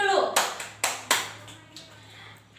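A classroom of children clap together in a few sharp, fairly loud claps close by, with the teacher's voice faintly in the room around them.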